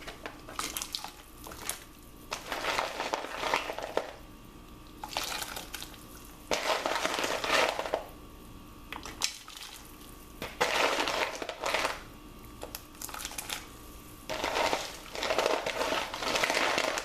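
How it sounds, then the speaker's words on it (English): Dry lima beans being poured into a cooking pot with water, arriving in several separate bursts of rattling and splashing with quiet gaps between them, close and fairly loud, with no talking. "So we're gonna add these beans."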